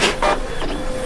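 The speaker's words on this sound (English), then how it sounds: "This printer is driving me crazy. It's so slow." An office printer runs steadily for about a second, its broadband mechanical whir rising in short surges as the print mechanism moves, close and fairly loud with no voices.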